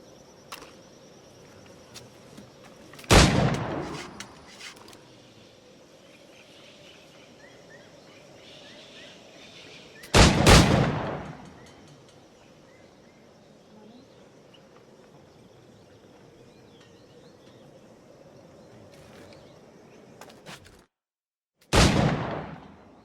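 Flintlock pistol shots in Assassin's Creed IV: Black Flag ring out as three separate loud cracks spaced several seconds apart, each trailing a short echoing decay over a quiet ambient bed.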